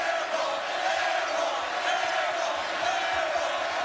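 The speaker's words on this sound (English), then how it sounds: "This crowd is unbelievable" A college basketball crowd in Haas Pavilion, Cal against UCLA, keeps up a steady, dense roar of cheering, the noise sustained and fairly distant without distinct claps or voices.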